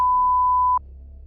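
A censor beep bleeping out a word, one loud steady pure tone held for most of a second that cuts off abruptly, leaving a faint low hum behind.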